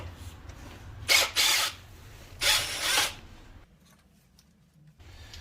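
Impact wrench zipping off pulley bolts on a 2002 Subaru 2.5L turbo engine during a timing belt and water pump job, two loud rattling bursts in a row, each about a second long, followed by a quieter tail.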